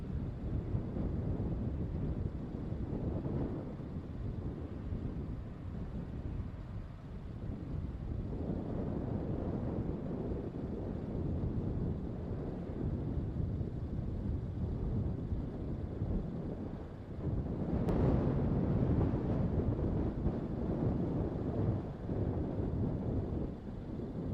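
Wind blows steadily across an open hilltop at night, a low continuous rumble with gusts buffeting the microphone and a brief louder surge, with no voices.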